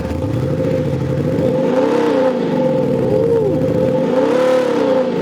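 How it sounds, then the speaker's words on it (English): A Land Rover Defender 110 fitted with a V8 exhaust sound generator revs loudly and steadily, its engine tone rising and falling in two or three swells close by. "Give it a little rev, please, Sam."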